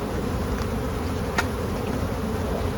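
A swarm of bees fills the air with a dense, steady buzzing hum, close and continuous with no breaks.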